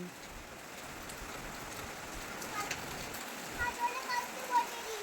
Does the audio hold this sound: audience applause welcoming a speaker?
no